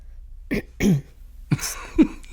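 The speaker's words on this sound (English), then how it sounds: "as I clear my throat" A few throat-clearing coughs, close and moderately loud, in short separate bursts with brief quiet between them.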